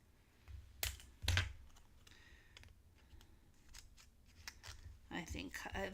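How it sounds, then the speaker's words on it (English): Scissors cutting card paper in half: a couple of crisp snips close by, followed by quieter rustling and handling of the card, with some faint background noise. "I'm going to be frugal and I'm going to cut this in half."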